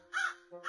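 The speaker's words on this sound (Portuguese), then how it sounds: "o corvo já chegou, galera. O corvo tá aqui" Crow cawing twice in the Roblox Brookhaven RP video game, two loud harsh caws close by with a short gap between them, beside a scarecrow at a barn.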